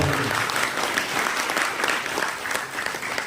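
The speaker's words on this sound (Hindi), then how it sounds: "सर के लिए बहुत जोरदार ताली आप सबका।" Audience applause for a speaker at a Hindi motivational business event, dense steady clapping from a crowd filling the whole stretch at a moderate, even level with no break.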